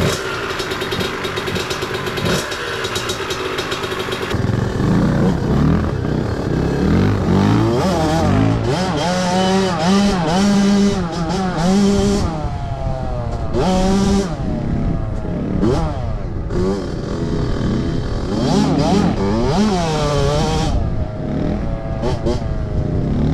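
A KTM 65 dirt bike rides through the woods, its small engine close and loud, revving up and down repeatedly with rising and falling pitch before easing toward the end.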